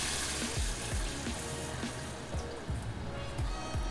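Homemade blended taco sauce pours from a blender into a hot pan for shredded chicken tacos, a steady liquid rush and sizzle with faint drips and clinks, close by and without speech.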